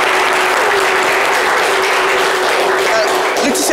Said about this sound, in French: Applaudissements pour Laetitia